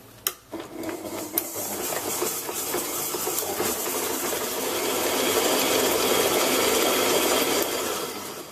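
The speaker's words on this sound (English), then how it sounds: "Now just turn your mixer on or beater and just cream this until it's light and fluffy." An electric mixer or beater creams butter and super fine sugar, opening with a couple of sharp clicks before a steady whirring motor hum with scraping texture rises slightly and runs on at moderate level.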